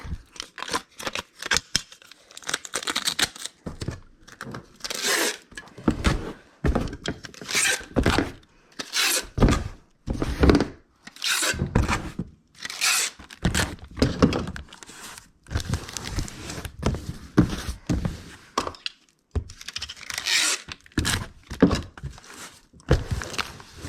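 Packing tape is pulled and peeled off a shipping box, giving repeated loud, close tearing rips and crinkles in an irregular run of bursts with short pauses.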